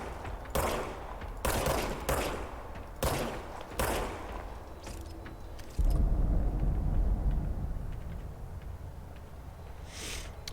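Gunfire in the third-person shooter game Control: five loud, evenly spaced shots in the first four seconds, then a heavy low rumble and fainter scattered reports fading toward the end, with no talking.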